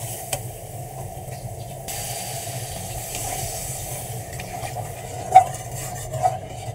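Meat and spices browning in a pan for haleem, a soft steady sizzle with occasional stirring scrapes and clinks, fairly quiet and close, with no talking.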